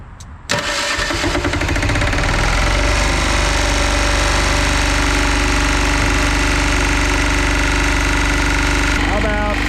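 An auction-bought ambulance engine with a decompression valve fires up after a direct crank, then runs loud and steady with a rough, clattering idle, close by, with brief talk over it.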